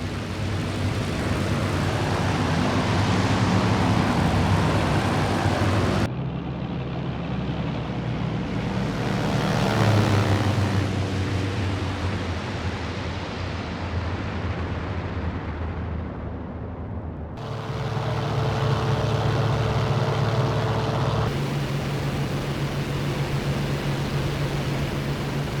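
An aircraft engine drones as the plane dives toward England. A loud, steady broadband roar runs throughout, easing briefly in the middle before swelling back to full power.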